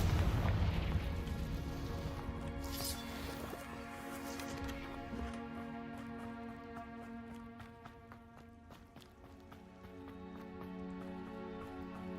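A fiery blasting spell goes off in a wizarding action game, a heavy rumbling boom at the start followed by lingering crackle under a tonal musical score.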